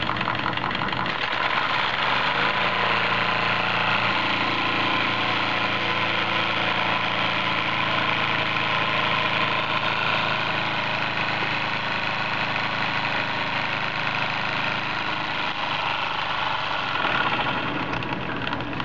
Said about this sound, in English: And there you have it, Jensen 70 duplex engine.